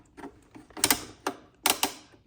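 Tensioner knob on a Cubii JR2 under-desk elliptical turned by hand, producing a few quiet mechanical clicks and ratcheting ticks in small irregular bursts, close up with no talking.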